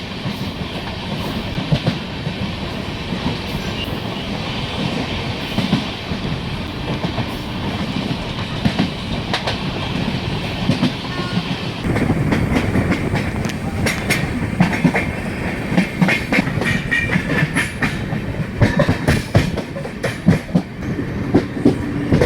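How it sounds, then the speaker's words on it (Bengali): A passenger train pulling into New Alipurduar station, heard from on board, with a steady rumble and rhythmic clickety-clack of wheels over rail joints that grows busier and louder partway through. "ট্রেন আমাদের ঢুকলো নিউ আলিপুরদুয়ার স্টেশনে।"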